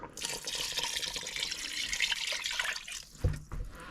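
Water pours steadily into a pot of chicken tortilla soup with kidney and black beans, a close, continuous splashing rush that stops with a small knock near the end.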